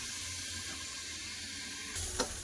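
Beetroot fries in oil with onion under a lid in a covered pan, making a faint, even hiss that turns brighter near the end with a soft clatter; no talking.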